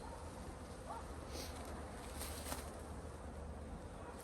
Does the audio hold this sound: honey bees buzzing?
yes